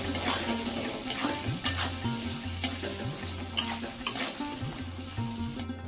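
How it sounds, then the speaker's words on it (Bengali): Pointed gourd pieces fry in oil with salt and turmeric over a low-to-medium gas flame, sizzling steadily while a spatula stirs and scrapes with repeated knocks against the pan, close and fairly quiet. "নুন আর হলুদ দিয়ে পটলটাকে খুব সুন্দরভাবে আমি ভেজে নিচ্ছি"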